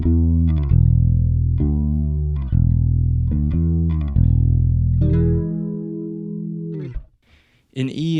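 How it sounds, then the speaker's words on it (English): Electric guitar played through a chorus pedal preset on a Quad Cortex, sustained chords with a shimmering, wavering modulation, struck in a steady rhythm, close and loud, ending in a brief pause. "In D, I have a chorus pedal,"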